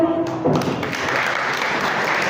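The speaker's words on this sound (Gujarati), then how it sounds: "તાળીઓના ગણગણાટ ચાલુ રહેવા દો મિત્રો" Loud, sustained applause from a crowd at a college annual function, steady dense clapping that continues throughout after a short tonal sound fades at the start.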